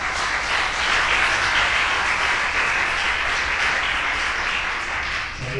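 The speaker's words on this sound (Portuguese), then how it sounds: "Vamos aplaudir o Senhor nessa noite." Congregation applauding during an evening church service, a loud, sustained wash of many hands clapping at once, close and even throughout with no break.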